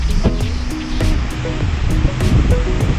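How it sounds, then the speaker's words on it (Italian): Roaring water of a 70-metre waterfall pouring over the Ridracoli dam during an overflow, a loud continuous rushing wash heard close up, with faint tonal sounds layered on top. "70 metri di cascata."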